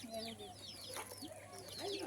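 Chickens cluck and call in a quick run of short, chirpy notes, fairly close and steady throughout, with faint background noise beneath.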